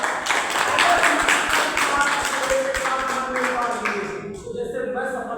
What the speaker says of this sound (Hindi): तो जोरदार तालियों के साथ